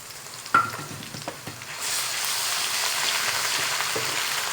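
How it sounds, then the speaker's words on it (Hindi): Ginger-garlic paste going into golden brown fried onions in a pan for a potato curry, a sharp sizzle after a few stirring clatters, then a steady loud frying hiss that continues to the end, no talking. "अब हम इसमें अदरक और लहसुन का पेस्ट डालेंगे"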